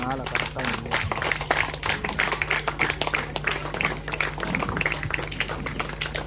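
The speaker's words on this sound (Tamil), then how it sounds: "கைத்தட்டி" Audience clapping at a Tamil book release and felicitation event: a steady run of sharp, fairly quick claps from a modest crowd, heard at moderate distance over a constant electrical hum with voices mixed in.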